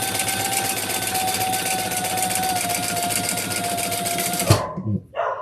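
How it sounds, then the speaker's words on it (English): Sewing machine stitching across the top of a toiletry bag, a loud steady rapid mechanical hum running for several seconds before stopping abruptly, followed by a brief clunk and quiet. "And then I'm just going to sew across the top of that."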